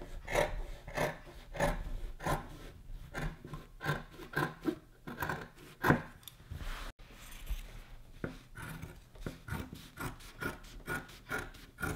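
Scissors cut through dress lining fabric in a steady run of soft, rasping snips and rubbing strokes, close and fairly quiet, with no talking.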